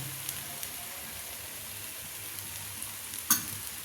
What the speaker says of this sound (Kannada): ಈಗ ನಾನು 1 ಸ್ಪೂನ್ ಎಣ್ಣೆ ತೊಗೊಂಡು ಎಲ್ಲ ಹತ್ರನ ಹಾಕ್ಬಿಡ್ತೀನಿ